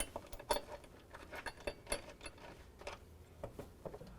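A socket wrench ratchets in short, quiet bursts of clicking while a bolt on a running board bracket is turned just short of snug, with brief metallic taps between the strokes.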